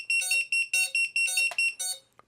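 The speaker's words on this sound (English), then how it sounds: "I should get beeping from both the motors and also the beeper we just installed" A micro buzzer fitted to an FPV quad sounds loud, close, shrill beep bursts in a quick broken rhythm, about seven pulses, then a short click at the end.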